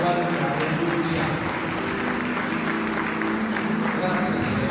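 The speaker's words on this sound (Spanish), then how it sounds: "denle un aplauso a Cristo, el Rey de Gloria" A church congregation applauds during a Spanish-language worship service, with steady, dense clapping and crowd noise under a loud voice and music throughout.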